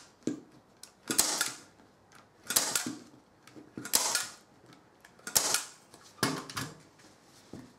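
Staple gun driving staples into upholstery fabric on a furniture base, a series of sharp mechanical clacks and snaps spaced about a second apart, close and fairly loud with no talking.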